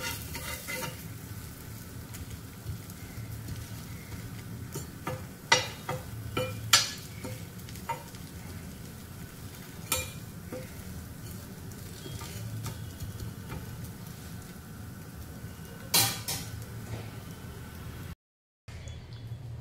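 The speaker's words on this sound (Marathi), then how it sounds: "मस्त खरपूस ब्रेड भाजून घ्यायचे आहेत आपल्याला बटरमध्ये." Bread toasting in butter in a pan for butter cheese pasta, a steady low sizzle running throughout with scattered scraping and stirring clicks, close and alone, with a brief dropout near the end.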